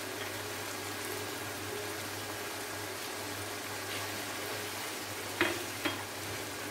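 Onions and green chilies fry in a pan for hara keema, giving a steady, even sizzle close by with a couple of brief scraping stirs near the end and no voices.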